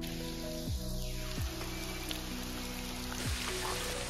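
Heavy rain pours steadily over the Matheran forest, a dense continuous hiss of drops on leaves and ground, close and even throughout with no voices.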